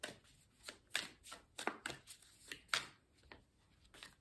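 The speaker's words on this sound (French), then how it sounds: "Maintenant on va prendre quelques cartes du tarot divinatoire." Tarot divination cards are handled and shuffled close by in soft, quick riffling and slapping bursts, irregular and quiet, with no talking.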